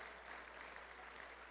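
A church congregation applauds steadily, a dense wash of clapping from many hands that fills the room without pause.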